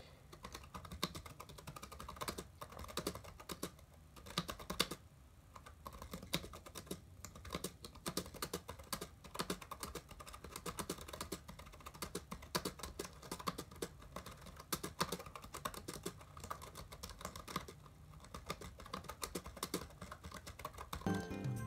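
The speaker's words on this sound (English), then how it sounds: "be prepared to listen to some nice keyboard action." Steady, fast typing on the keyboard of a 1997 IBM ThinkPad 380E laptop, with close, crisp key clicks and occasional heavier keystrokes continuing without pause and no talking.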